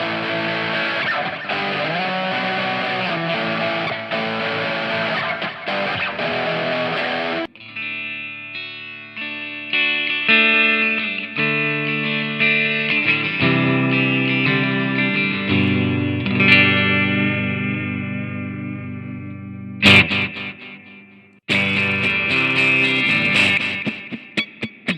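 Guitar played through preset tones on a Spark Mini smart amp, heavily effected with distortion, chorus and reverb; sustained chords and ringing notes carry steadily, with a brief break near the end before the playing resumes.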